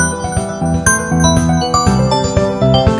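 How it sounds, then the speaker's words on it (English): A synthesized kick drum thumps on a steady beat in an electronic music track, sitting under bright bell-like synth tones and layered melodic parts, loud and continuous with no voices. "I'm actually going to put in a kick drum now."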